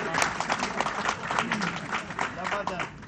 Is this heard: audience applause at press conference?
yes